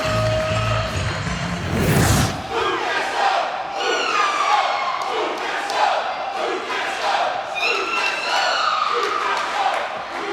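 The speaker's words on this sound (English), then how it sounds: "Oh God, that's shrieking." A women's wrestling event crowd shrieks, whoops and cheers in continuous loud waves, high-pitched voices rising and falling across the arena after a sharp burst near the start.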